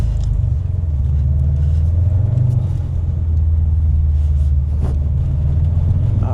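A Subaru STI driving on the frozen Saint-Lawrence River ice in Montréal, its engine a loud, steady low rumble heard from inside the car throughout.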